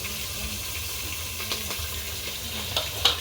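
Onion, carrot and peas frying in hot oil, a dense continuous sizzle with faint stirring scrapes and a couple of sharper pops near the end, with no talking.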